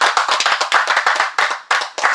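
Close, crisp hand claps from an audience at an interschool final ceremony, a quick run of individual slaps with a couple of short gaps.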